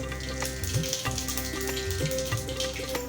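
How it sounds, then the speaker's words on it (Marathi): Cumin and mustard seeds sizzle and crackle in hot oil in a pan, a steady frying hiss with scattered pops and the clink of a utensil in the background. "इथे आपलं तेल छान असं कडकडीत गरम झाल्यानंतर आपल्याला यामध्ये जिरी आणि मोहरी घालून घ्यायची आहे"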